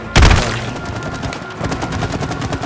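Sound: gunshots firing at a panel in the video game It Takes Two

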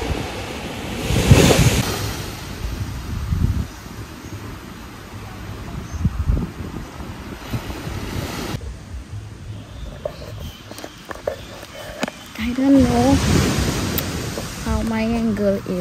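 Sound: sea waves on the beach

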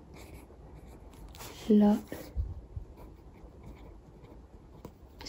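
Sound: handwriting with a pen on paper

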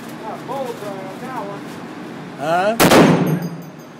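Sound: 50 caliber rifle gunshot

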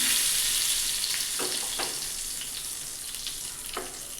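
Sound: tadka tempering sizzling, cumin and curry leaves

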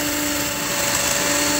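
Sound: electric drill rigged as a grinder, sanding

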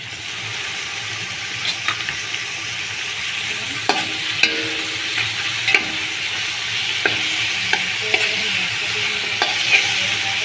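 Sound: tomato pieces frying and being stirred for prawn biryani

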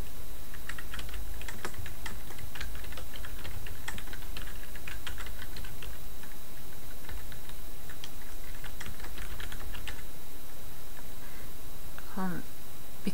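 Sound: typing on a computer keyboard

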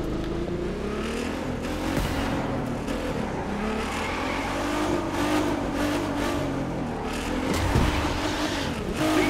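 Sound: car engine drifting in video game The Crew 2

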